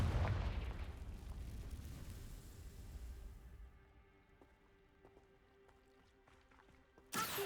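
A Confringo spell blast in the video game Hogwarts Legacy: a loud booming burst at the start that fades into a low rumble, followed by a sharp crack near the end.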